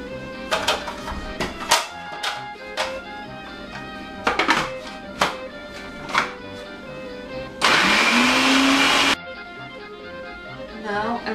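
Garlic cloves are blitzed in a blender or food processor bowl, a loud steady motor whir lasting about a second and a half, coming after a stretch of clattering and talk in a kitchen while making gefilte fish.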